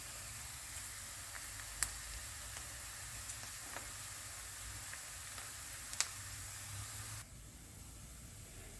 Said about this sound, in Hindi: प्याज को हम हल्का सा सौते करेंगे